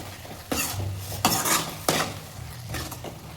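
A spoon scrapes and clinks through egg curry masala in a metal pan, with three or four distinct stirring strokes, close and moderately loud, and no talking.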